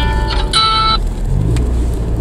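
A car crawls through a traffic jam on a lower road in Murmansk, its engine a steady low rumble from inside the cabin, with a brief high-pitched tonal chime near the start.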